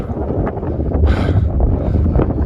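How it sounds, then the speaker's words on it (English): Steady gusting wind buffets the microphone with a loud, low rumble and rustle, rising and falling throughout without pause, at Max Patch. "It's windy."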